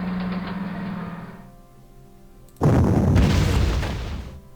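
In the wartime strategy game Panzer Corps Gold, a tank is fired on: a dull, fading rumble gives way to a sudden loud boom-like blast that lingers as a heavy rolling roar, with no talking.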